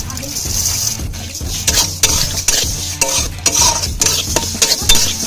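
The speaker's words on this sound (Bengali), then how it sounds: "পাশে আরেকটা কড়াই বসিয়ে দিয়ে গরম করে ওর মধ্যে ডালগুলো ভেজে নেব" Dry lentils roasting in a hot wok with no oil, stirred with a spatula: a constant dry rustling hiss broken by sharp, irregular scrapes and clinks of utensil against metal, close and fairly loud.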